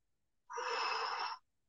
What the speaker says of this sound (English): Deep breathing in the nose, out the mouth.